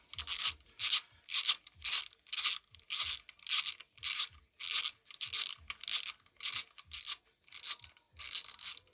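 A ratchet wrench undoing bolts on a bike with rapid repeated clicking bursts, about a dozen short strokes in steady rhythm, close and fairly loud with no talk.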